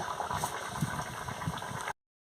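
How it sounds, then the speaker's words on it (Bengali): Chicken curry simmering in a pot after water and salt were added, giving a steady, soft bubbling and boiling sound that continues evenly and then cuts off abruptly. "টকবক করে ফুটছে"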